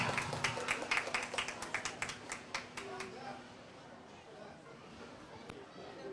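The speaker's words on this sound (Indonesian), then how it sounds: "Mana ini tepuk tangannya?" Students clapping in rhythmic, fairly quick claps at a school class event, moderately close at first and then thinning out and stopping, with children's chatter in the background.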